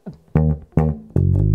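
A handful of punchy plucked notes on an electric bass guitar, the opening phrases of a funk riff, played close and solo with no speech.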